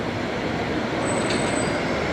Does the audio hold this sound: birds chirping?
no